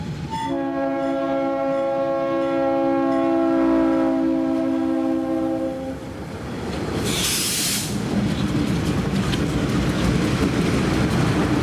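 A Monongahela Railway freight train in 1990 sounds a long multi-tone horn blast, then rumbles past with steady wheel roar, a brief hiss of air midway, and continuous rolling noise to the end.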